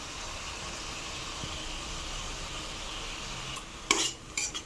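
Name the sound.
spice paste frying and being stirred in a pan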